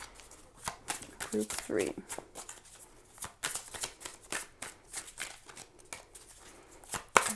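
Tarot cards are shuffled in repeated quick riffling bursts and slides, close and soft, while a person talks over them intermittently.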